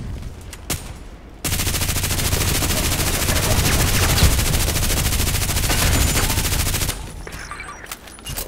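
An RPK machine gun fires in the game Contract Wars as one sustained, loud, rapid stream of shots lasting several seconds before cutting off abruptly, with sparse game sounds before and after.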